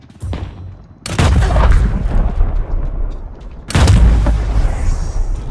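Loud video game gunshots land as two heavy booming bursts, each followed by sustained rattling fire and echo, close and dominant with almost no talk.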